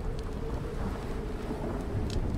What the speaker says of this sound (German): Ein Unwetter.